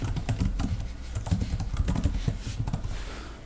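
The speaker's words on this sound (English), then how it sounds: "I'm actually typing it out now" Fingers tap quickly and steadily on a computer keyboard while someone codes, producing dense, close clicking and clattering with no pauses and no speech.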